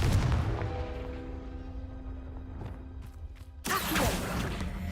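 A Confringo fire spell fires in Hogwarts Legacy, a loud blast and crash with a whooshing burst near the end, over a rumbling game soundscape with a steady tonal hum.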